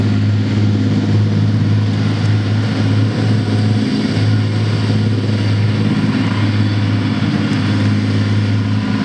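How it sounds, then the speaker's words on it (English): An FV432 armoured personnel carrier rumbles past on a military vehicle display track, its heavy diesel engine a loud, steady low drone with clattering tracks, continuous throughout with no speech. "This vehicle coming on now, this is what the military would call an APC, or Armoured Personnel Carrier"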